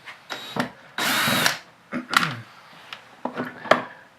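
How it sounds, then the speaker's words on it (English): A power drill removes the screws from the steering motor of a BMW X7, with a loud whirring burst of about half a second plus shorter whirs and tool clatter, all close by. "Then we'll go ahead and take the screws out right here and set those aside."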